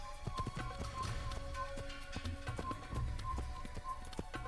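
Horse hooves from Assassin's Creed, a steady clip-clop gallop with repeated rhythmic taps over a constant ambient background, fairly close and moderately loud.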